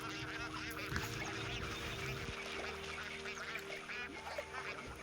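Bar-headed geese call in repeated nasal honking notes at moderate distance over a low steady hum, fairly faint and continuous, with no talk.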